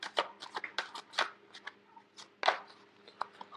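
Advice cards shuffled during a tarot-style reading, a run of crisp riffling bursts and flicks coming in quick irregular clusters, close and alone with no talk.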